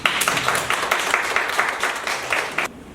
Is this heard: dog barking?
no